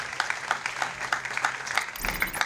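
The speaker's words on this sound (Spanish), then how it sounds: "Fuerte el aplauso." Steady applause from an audience at a municipal youth program launch in Ilopango, moderately loud, with rhythmic clapping throughout.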